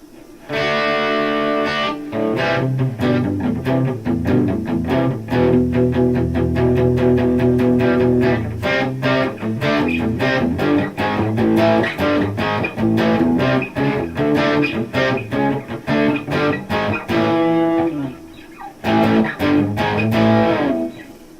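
An electric guitar, a Gibson SG Pro 400, plays through the crunch channel of a Boss Katana 100-watt amp with digital delay and plate reverb, strummed chords and riffs running continuously with brief pauses, loud and up close.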